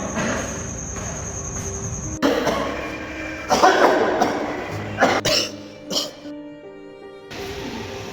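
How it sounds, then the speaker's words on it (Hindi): A person with tuberculosis coughs repeatedly in rough, irregular bursts close by, with throat clearing and background insect chirping and ambient noise between fits. "मुझे इसकी खांसी नॉर्मल नहीं लग रही है"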